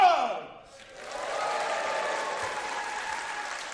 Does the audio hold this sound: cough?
no